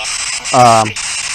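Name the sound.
white noise static from a paranormal investigation device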